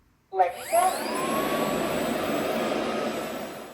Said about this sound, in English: a robotic 4-in-1 vacuum and mop cleaning system that Solenco sells here in the UK